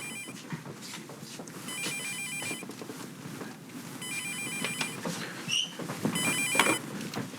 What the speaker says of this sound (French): puis que le téléphone il sonne